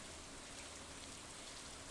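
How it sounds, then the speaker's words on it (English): Soft, steady rain hiss fills a rainy spring day in the farming video game Stardew Valley, a faint, even ambient wash with no other sounds. "And it's raining today."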